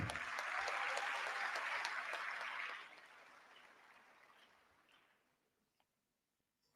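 A hall audience applauds at an induction ceremony for newly qualified medical and dental practitioners. The clapping is loud at first, fades gradually to scattered claps and then silence.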